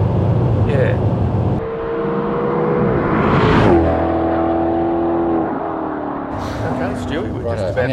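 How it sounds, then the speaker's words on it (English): A 2014 Maserati GranTurismo Sport revs hard under acceleration on the road, its engine note climbing in pitch, easing off, then surging again up close, with voices over the engine. "want to overtake something and let it rev up"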